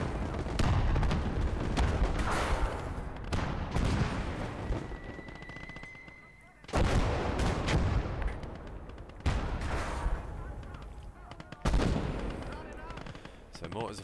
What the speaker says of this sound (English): they are bringing in so much artillery